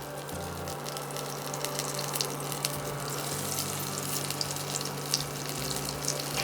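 Poppy seed fritters (posto bora) sizzle in hot oil, a steady bright crackling hiss with a low background hum, continuous and close, with no talk.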